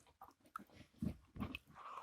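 A pet dog chews and bites on a cardboard box, producing soft irregular crunching and gnawing bursts with breathy snuffles, close and fairly quiet, with no voices.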